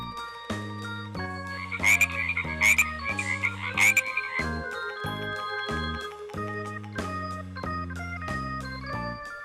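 A frog croaks in a few short bursts over steady background music, fairly close and clear.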